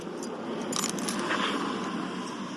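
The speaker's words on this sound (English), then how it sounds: "I haven't learned which keys are what yet." A bunch of keys jangles and clinks in a few metallic bursts over steady background noise while trying keys at a trailer lock, with no talk.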